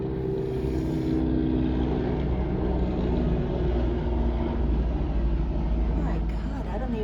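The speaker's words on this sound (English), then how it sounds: "I think that's a helicopter outside." A loud helicopter passes outside, its heavy, continuous low drone filling the room and dominating the background while a voice talks over it.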